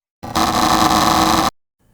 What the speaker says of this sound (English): That's the sound of an Xbox controller.